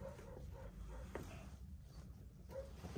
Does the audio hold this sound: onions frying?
no